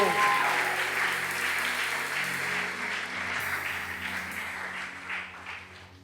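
A church congregation applauding at a house of prayer: sustained, moderately loud clapping that builds early and then holds steady across the room, without words.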